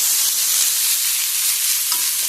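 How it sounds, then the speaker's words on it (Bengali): Sour leaves go into frying masala in a pan for a small-fish curry, producing a loud, even, hissing sizzle that barely changes. "মশলাটা ভাজা হয়ে গেছে, এবার এর মধ্যে আমি টক পাতাগুলো দিয়ে দেবো।"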